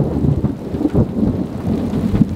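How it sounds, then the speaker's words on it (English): Desert thunderstorm downpour in Arizona, heavy rain drumming steadily with low rumbling thunder close by, dense and continuous without voices. "there is a little bit of local lightning and thunder happening close by"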